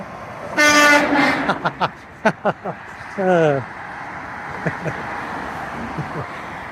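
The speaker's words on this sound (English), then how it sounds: "See if we can get this guy to honk." A big truck's air horn blasts on Interstate 40, one long loud honk and then a shorter one, heard from a roadside overpass over traffic noise, with people talking briefly between the blasts.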